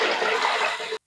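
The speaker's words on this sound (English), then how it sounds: "I'll go ahead and add extra water." Extra water poured into a pot of washed rice with coconut water for coconut rice, a close, steady splashing pour lasting about a second before stopping abruptly.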